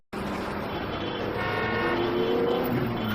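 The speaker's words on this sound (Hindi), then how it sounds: "अरे देख ट्रैफिक केते जाम अछि।" Car horns toot over a steady roar of jammed road traffic, the engine rumble growing slightly louder and a few honks standing out near the end.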